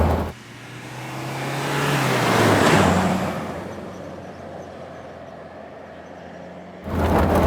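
Land Rover Defender Wolf ex-army pickup engine pulling flat out in fourth gear, a loud sustained drone with a rising engine note that swells, then settles into a steady roar heard from inside the cab.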